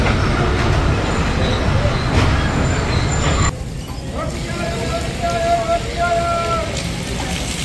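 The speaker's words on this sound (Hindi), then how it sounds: "कराक्रम एक्सप्रेस बिलाखिर पहुंच चुकी है खानेवाल जंक्शन रेलवे स्टेशन के प्लेटफॉर्म पर" The Karakoram Express pulls into the platform at Khanewal Junction railway station with a steady loud rumble of rolling wheels and carriages, then a quieter rolling hum with faint squeals as it slows.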